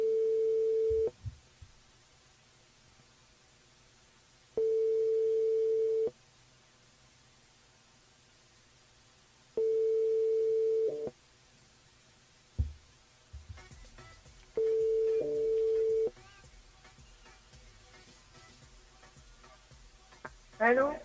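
Telephone ringing tones on a French radio call-in line repeat in steady, evenly spaced beeps about five seconds apart while a call is placed, with faint background noise and a voice answering near the end.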